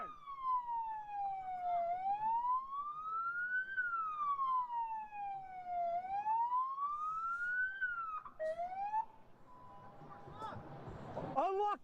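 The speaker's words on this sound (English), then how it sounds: "Turn off my siren!" A police car siren wails close and loud in a steady rising-and-falling sweep for about eight seconds, then cuts to a shorter tone as rough noise and voices take over near the end.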